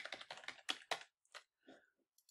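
Fast, close typing on a computer keyboard, a quick burst of clicks that slows into a few scattered taps toward the end.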